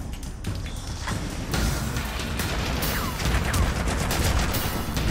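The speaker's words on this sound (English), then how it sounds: "pretty heavy fire" Heavy automatic gunfire in the video game Haze forms a dense, continuous rattle of shots with crashing impacts, growing louder midway and staying intense to the end, with no speech.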